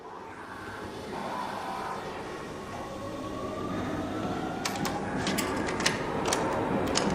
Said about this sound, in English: Train's over there.